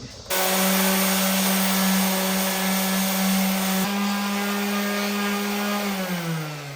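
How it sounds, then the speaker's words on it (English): A dual-action sander with 80-grit paper starts up and runs steadily, sanding rust off a 2006-10 Dodge Charger trunk, with a loud, even whine and hum, close by, winding down slightly at the end. "Okay, I got my DA with some 80 grit, and I'll knock that rust down."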